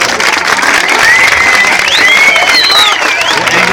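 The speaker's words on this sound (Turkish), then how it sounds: "alkışlayalım abi" A crowd at a school science project exhibition applauds with loud, continuous clapping and a few whistles and cheers mixed in.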